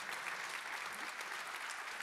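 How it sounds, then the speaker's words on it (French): An audience applauds steadily after a presentation about an eco-campus set in a landscaped park, a dense even patter of many hands heard from a little distance and not broken by any pause. "Vous pouvez les applaudir pour cette magnifique présentation."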